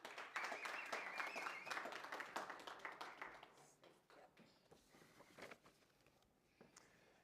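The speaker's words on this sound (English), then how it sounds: "Let's give her a round of applause." Applause from a summit conference audience, brisk clapping that starts strong and gradually thins out into scattered claps over several seconds.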